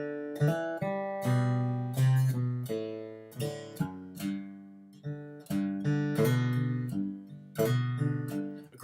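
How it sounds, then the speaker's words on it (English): Guitar demonstrating a bluegrass phrase with grace notes: bright, clear plucked notes in quick clusters with short ringing decays. Played solo and close, no talking. "If it were a grace note, it would sound like this."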